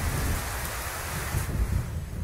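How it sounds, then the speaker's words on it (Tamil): Heavy rain pours down steadily in a loud, continuous wash, with low rumbling that may be distant thunder during a storm and power outage at night. "பாழா போன மழை ஏன் தான் இப்படி பெஞ்சு தொலைக்குதோ?"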